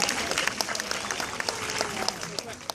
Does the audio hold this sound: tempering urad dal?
no